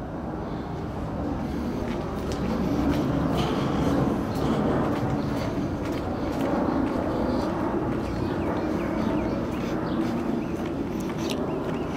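A train rolls past near a home in Mesa, Arizona, producing a continuous low rumble and rattle that swells slightly midway and holds steady at moderate loudness, heard from some distance with no clear speech.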